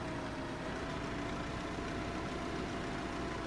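A tractor engine idles steadily in the Farming Simulator 15 video game, a dense, continuous low rumble with a broad hiss on top, holding an even loudness throughout with no voices.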